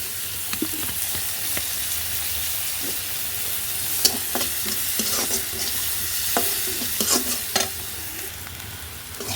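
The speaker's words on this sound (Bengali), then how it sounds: "পেঁয়াজটাকেও আমি কিছু তেলে ভেজে নিছি" Onion rings frying lightly in oil and being stirred, a continuous soft sizzle punctuated by frequent clicks and scrapes of the spatula against the pan.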